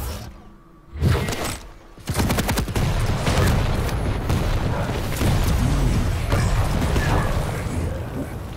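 Rocket explosions and gunfire from a competitive video game match, a dense loud barrage of booms and crackling bursts sustained after a brief lull, with a faint voice beneath.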